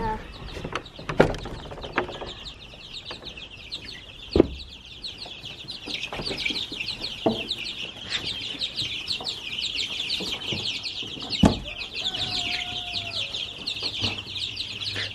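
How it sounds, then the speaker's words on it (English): Young, nearly fully feathered farm turkeys call in a busy chorus of repeated chirps and clucks, fairly close and outdoors, with a few sharp louder calls and occasional human voices mixed in. "I hear the turkeys."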